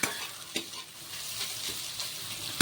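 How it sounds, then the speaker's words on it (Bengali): Soybean chunks fry gently in oil on a low flame, a soft continuous sizzle broken by a few scraping stirs, close and fairly quiet. "সয়াবিনটা না যতক্ষণ ভাজা হচ্ছে"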